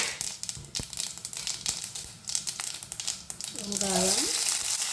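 Mustard seeds and cumin fry in a couple of spoonfuls of oil for mushroom curry, a close crackling sizzle with scattered sharp pops, and a brief voiced sound sweeping through near the end.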